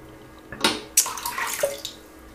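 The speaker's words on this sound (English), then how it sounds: "So I'm going to add a bit more water to the brush again" Water splashes briefly onto a shaving brush being wetted before lathering soft shaving soap, a couple of quick close splashes and trickles with no talking.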